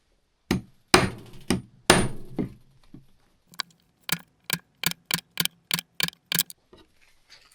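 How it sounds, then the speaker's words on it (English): A hammer and hammer rivet set strike rivets into a ski skin, a few heavy ringing blows followed by a quick run of about ten sharp, evenly spaced taps, close and alone. "In order to fasten this leading edge, what I'm going to do is to use those rivet sets, the hammer rivet."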